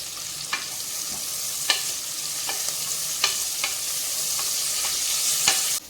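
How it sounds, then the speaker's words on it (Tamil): Sliced onions and mint leaves sautéing in a pan for butter bean pulao, a steady sizzle broken by repeated scraping stirs of a spoon, close and continuous with no talking. "வெங்காயம் நல்லா வதங்கி வந்துருச்சு."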